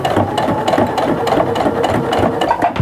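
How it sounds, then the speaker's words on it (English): A sewing machine top stitching an eighth-inch seam with a 3.0 stitch length along the bottom of a tote bag, a loud, close, steady rapid whirring chatter that runs without pause and with no talking. "I'm going to top stitch an 1/8 inch stitch on the bag bottom"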